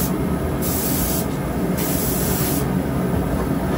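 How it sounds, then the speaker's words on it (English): Continuous loud hiss of an aerosol can spraying gold paint onto a fishing lure, held steady for several seconds with slight changes in intensity as passes are made. "I'm just going to hit a light spray of gold"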